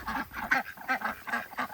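Ducks quack repeatedly in a quick, uneven rhythm, fairly close and moderately loud, with no talking.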